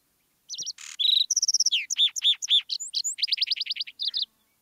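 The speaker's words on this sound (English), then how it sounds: "that's a lark sparrow" A lark sparrow sings a varied run of clear whistled notes, trills and rapid chips, broken now and then by short buzzy notes, close and loud against a quiet background.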